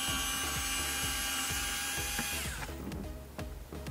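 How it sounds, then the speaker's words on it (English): An automatic screwdriver whirs continuously at close range while backing out a door speaker screw on a BMW E46 convertible, the motor pitch shifting and rattling toward the end. "we can use the automatic screwdriver too"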